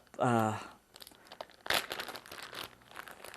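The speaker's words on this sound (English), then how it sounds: "then we put a little bit of foil" Aluminum foil handled and crinkled, giving a run of close, bright crackling and rustling after a brief voiced sound at the start.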